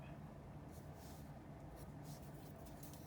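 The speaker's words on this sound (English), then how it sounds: "So I'm going to lightly sketch like that." A pencil sketches lightly on paper for a sunflower drawing, giving faint, soft brushing strokes in a couple of brief bursts over a low, steady background hum.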